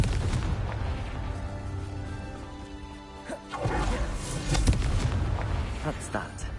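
A Confringo spell explosion in a game lands with booming, crashing blasts and scattered impacts over a rumbling background, the loudest burst about midway, with a voice heard briefly.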